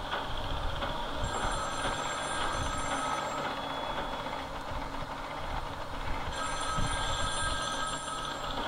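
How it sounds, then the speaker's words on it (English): A telephone in Batman: Arkham City rings in two shrill bursts, one early and one near the end, over a rumbling, train-like background of low noise. "Pick up the phone,"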